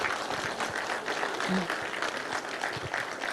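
Audience applause for the governor at a state workforce summit, a sustained patter of many hands clapping at moderate level, fairly even throughout with some voices mixed in.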